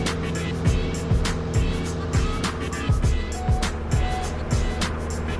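A small airplane's engine drones steadily through a soft field takeoff, accelerating as the nose lifts, a continuous loud hum with shifting tones and occasional talk over it.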